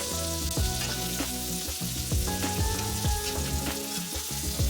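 A steak sizzles loudly in a frying pan, a dense continuous crackle and hiss heard up close, with scattered clinks from the pan and no talking.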